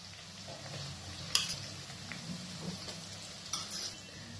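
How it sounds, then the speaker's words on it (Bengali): Garlic paste frying with browned onions in a pan over a medium flame, a quiet steady sizzle broken by a couple of sharp clinks of a spoon against the pan and soft stirring. "এরপর গ্যাসের ফ্লেমটাকে মিডিয়াম রেখে ভালো করে ভেজে নিতে হবে পেঁয়াজের সাথে।"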